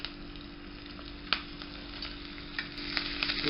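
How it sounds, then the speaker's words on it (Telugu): Dried red chillies and curry leaves fry in a pan, a soft steady sizzle with scattered pops and crackles that grows slightly busier toward the end, with no talking. "ఇవన్నీ దోరగా వేగేలాగా వేయించుకోవాలి"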